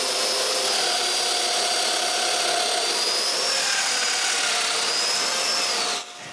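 A domino joiner cuts mortises into wood for joining small frames to the main frames of a shop chest of drawers, giving a steady, loud whining motor drone that runs unbroken until it drops off sharply at the end.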